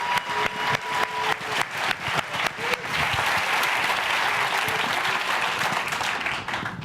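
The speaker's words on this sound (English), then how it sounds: "Let's give them a round of applause." A live audience at a small-business pitch competition finals in Buffalo applauds, starting with a few scattered claps and building into dense, loud, continuous applause.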